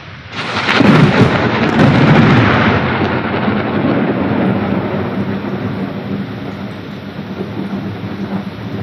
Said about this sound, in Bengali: দেখো বাইরে দেখো কি বৃষ্টি।